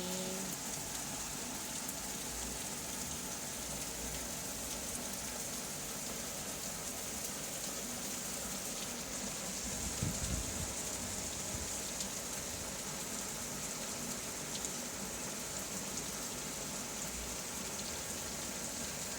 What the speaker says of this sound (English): So as soon as we got in, the rain decided to start.